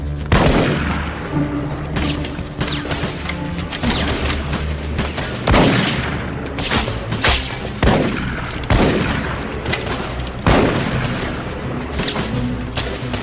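Rifle fire from skirmishers in a battle, a ragged volley of loud booming shots cracking out one after another at irregular intervals over a steady din, with no talk.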